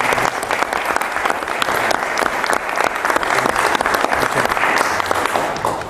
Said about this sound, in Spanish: le vamos a brindar un aplauso